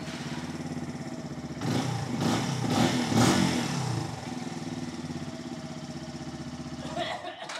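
A 125cc CFMOTO Papio XO-1 motorcycle, a 2024 model, idles with a steady putter, then its engine is revved in several quick rising bursts before settling back to a close, even idle.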